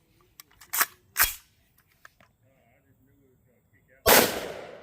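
Metallic clacks of a new magazine being loaded into a Q Sugar Weasel 5.56 rifle: two sharp clicks close together, a few faint ticks, then a loud, sharp report that decays slowly.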